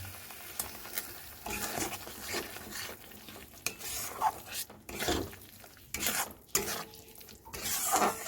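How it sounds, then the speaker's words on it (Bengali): Vegetables with potato and pointed gourd scrape and sizzle in a pan as a spatula stirs them in repeated strokes, close and fairly quiet, with no talking. "ভালো করে কষাবেন"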